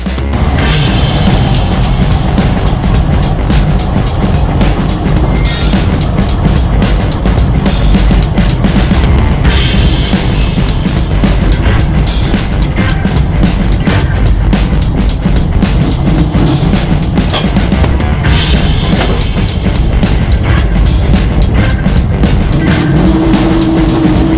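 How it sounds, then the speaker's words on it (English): A 1968 Chevy Nova making a full quarter-mile drag run at a Cleetus and Cars event in Houston, a loud continuous engine roar that holds steady and dense throughout with no pauses and no talk. "we're also gonna run the full quarter mile, which I've never done in this car"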